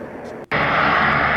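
A C-17 Globemaster military transport aircraft flying, heard as a loud, dense engine roar that briefly drops out and then returns even stronger, steady and close.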